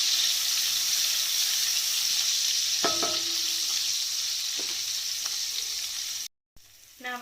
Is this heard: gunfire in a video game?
no